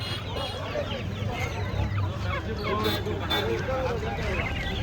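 Kadaknath chickens and turkeys clucking at a busy village poultry market, continuous overlapping fowl calls over steady crowd babble and people talking nearby.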